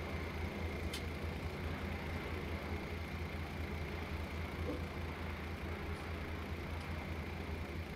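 Low, steady tractor engine idle in Farming Simulator 2019, a faint constant rumble with a few thin tonal lines and an occasional soft tick, heard quietly at an even level with no voices.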